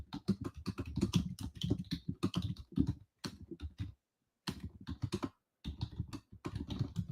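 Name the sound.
typing on a computer keyboard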